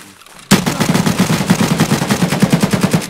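Loud, close automatic gunfire in the shooter game Escape from Tarkov: a sharp onset followed by a rapid, evenly spaced burst of shots that runs for nearly three seconds.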